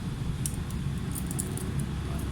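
A Toaks titanium folding fork from an ultralight cook kit is handled, producing a few faint, light metallic clinks and jingles over a low background hum.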